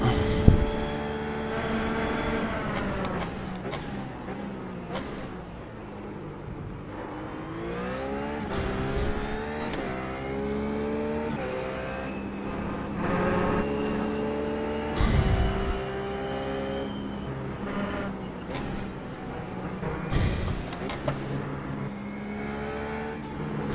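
RUF GT3 race car in iRacing at COTA, a loud engine roar that climbs through the revs and drops sharply at each gear change, repeating throughout as the car accelerates and brakes.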